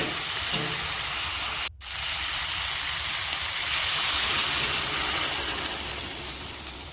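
Water poured into a pan of sautéed cauliflower for a Bengali egg-and-cauliflower curry, a continuous rushing hiss and sizzle close by, briefly cut off once, then swelling and easing.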